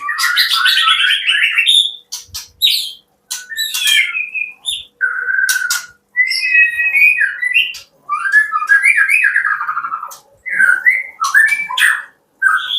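White-rumped shamas (murai) kept in covered cages, singing and sparring with one another: loud, close bursts of varied whistles, chirps and harsh squawks in rapid phrases broken by short silences.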